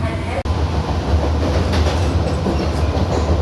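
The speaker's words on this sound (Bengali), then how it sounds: "শিয়ালদা ছাড়ার পর আমাদের সর্বোচ্চ গতিবেগ নিয়ে নিয়েছে" An AC EMU local train out of Sealdah runs at top speed, with a dense, continuous rumble and rattling wheel noise filling the cabin, loud and steady throughout.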